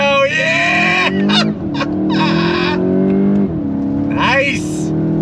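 A 2022 VW GTI accelerating hard under throttle on a wet track, engine note climbing through the revs with a shift dip, loud and close inside the cabin, with a voice exclaiming over it.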